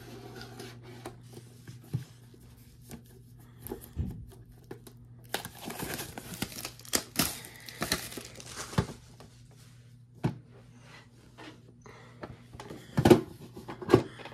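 A Pokémon Crown Zenith tin sliced open with a letter opener: faint scraping and crinkling of plastic wrap, with scattered sharp rubbing strokes and small clicks over a low background hum.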